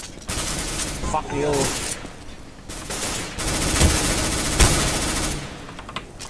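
Gunfire in a competitive shooting video game arrives as bursts of rapid shots and sharper single reports, loud and close, with a voice swearing briefly in between.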